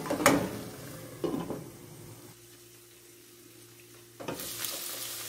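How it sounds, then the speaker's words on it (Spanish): Chicken pieces with garlic and turmeric frying in a pan, with a loud sizzle flaring up as the food is stirred, dropping to a quieter steady hiss, then surging again with another stir. "Vamos a esperar que dore el pollo con el ajo"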